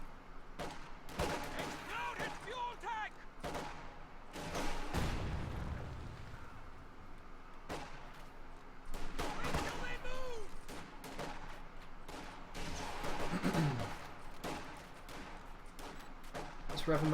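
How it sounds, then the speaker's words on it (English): Rifle gunfire from squads of riflemen in the video game Company of Heroes 2: scattered sharp shots and short volleys crackle throughout, with someone talking over the battle. "Instead, he's going to fire a few more rounds."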